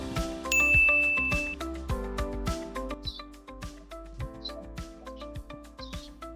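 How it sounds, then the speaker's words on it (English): A notification bell rings out with a bright ding, followed by a run of quick tinkling chimes and clicks in a short, busy jingle. "hit the notification bell"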